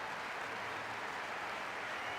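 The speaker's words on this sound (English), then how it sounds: "Let us send him off with a round of applause" Steady crowd applause in a video game cutscene, a dense, even wash of many hands clapping that holds at one level throughout, with no voices over it.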